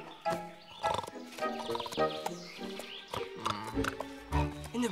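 A cartoon horse whinnies and snorts amid busy animated action, a loud, wavering neigh mixed with hoof clatter and other effects up close.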